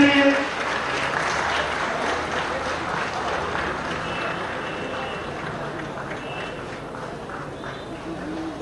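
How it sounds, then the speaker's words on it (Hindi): Applause from a crowd welcoming dignitaries at a cricket league final prize distribution ceremony, a dense continuous clapping wash at moderate loudness that slowly fades, with some voices mixed in. "please welcome all the dignitaries with big claps"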